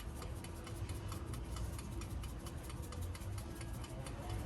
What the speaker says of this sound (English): You guys hear the ticking, it's the cornbread.